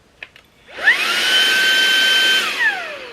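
A Shark vacuum cleaner switches on after a couple of clicks, spins up to a steady high whine for about two seconds, then winds down, loud and close with no talking.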